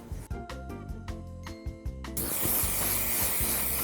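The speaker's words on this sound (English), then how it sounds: "Noris is like spraying so much that the hairspray literally just dripped on my leg" Harmonic background sound gives way to a loud, steady hiss of aerosol hairspray that continues for over a second.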